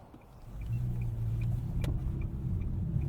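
A 2020 Nissan Sentra SR pulls away, its engine and road rumble rising steadily from inside the cabin as the car gets under way.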